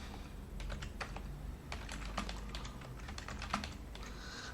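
Fingers type a password on a computer keyboard during an operating system installation, tapping bursts of quick, close keystrokes that continue steadily with brief pauses.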